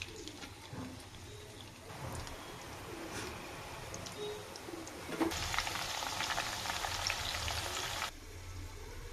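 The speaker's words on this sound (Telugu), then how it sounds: "ఆలుగడ్డ పొట్టు ఫ్రై చేసుకోవాలి ఫ్రెండ్స్" Potato peels fry in a hot pan with a steady, close sizzle that grows louder and fuller for a few seconds before easing back, while birds coo faintly in the background.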